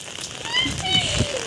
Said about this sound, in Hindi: आपको खुद ही बारिश का मजा दिलाते हुए।